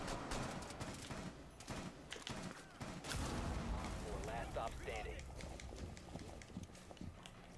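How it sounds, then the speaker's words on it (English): Gunfire in the PS4 game Rainbow Six Siege, heard as rapid bursts of shots and clattering impacts amid game noise, with players talking over it throughout. "you can hear him getting shot"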